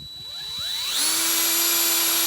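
A power drill bores a tap hole into a maple tree for sugaring, its whine rising in pitch as it spins up and then holding a steady, high, thin tone, moderately close with no voices.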